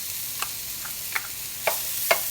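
Chopped white onion sautéing in a pan for fideo, with a steady bright sizzle and a few light clicks of a utensil against the pan at intervals, close and without speech.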